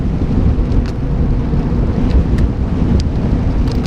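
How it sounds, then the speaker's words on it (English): Strong wind buffets a cyclist's microphone on a windy road, a loud, continuous low rumble with rough gusty texture throughout and no speech. "Oh my gosh, it's windy."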